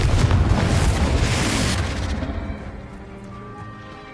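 A Confringo blasting spell in a Harry Potter video game erupts as a loud, close explosive roar that fills the first two seconds, then rumbles and fades away.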